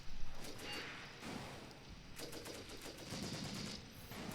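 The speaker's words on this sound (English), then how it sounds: "Look at that enemy machine gun fire." Enemy machine gun fire in the World War II tactics video game Graviteam Tactics, a distant continuous rattle of bursts mixed with muffled battlefield noise, faint and steady throughout.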